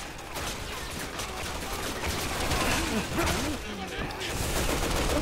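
Dense, continuous gunfire from snipers and enemy soldiers in the Resident Evil 6 Chris and Piers campaign, with a steady wash of shots and bursts throughout while a voice speaks briefly over the din.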